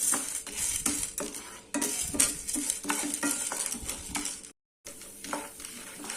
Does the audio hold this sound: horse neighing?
no